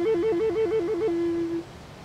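A descant recorder plays a rapid tremolo with F natural fingering, fluttering evenly between two close notes about seven times before settling on one steady tone that fades out, played alone and fairly clear.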